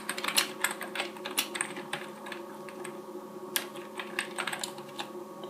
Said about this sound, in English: So, yeah, you can type in anything you want.